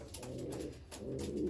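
A gifted breeder racing pigeon coos close by in a low, soft, rolling murmur that repeats steadily over constant background noise.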